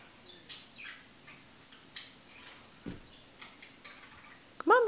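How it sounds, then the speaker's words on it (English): Faint, sparse bird chirps in a quiet room with soft ticking sounds, then a louder clear tweet right at the end. "Can you hear the birds?"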